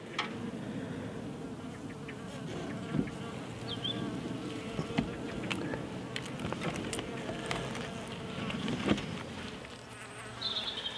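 Dense, steady buzzing of honeybees packed between the frames of an open hive box, a close and continuous drone with small bursts of individual bees flying near.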